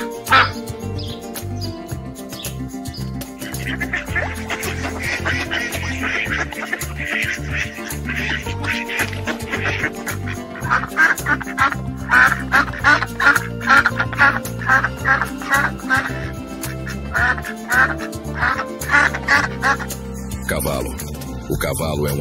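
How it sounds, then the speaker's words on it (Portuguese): Ducks quack repeatedly among other bird calls, fairly close and busy, with a voice talking over much of it. "O pato é uma ave aquática"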